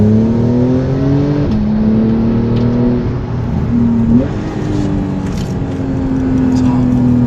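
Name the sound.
Porsche 911 Carrera 4 GTS PDK accelerating in Sport Response mode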